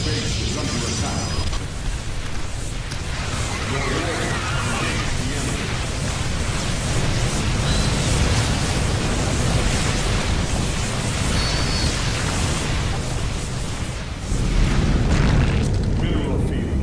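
Continuous booming explosions and battle rumble from a StarCraft 2: Wings of Liberty base under attack, loud and sustained throughout with a heavier surge near the end.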